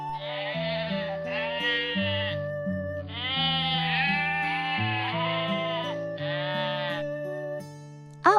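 Cartoon sheep bleat in a string of loud, wavering calls, several overlapping in quick succession over a sustained musical backing, with a brief sharp sound at the very end.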